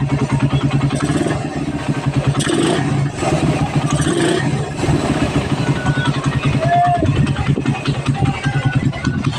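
A carbureted motorcycle engine idles and sputters unevenly nearby when hot, its pulsing rumble faltering with clattering bursts before the running becomes rough and irregular and it stalls.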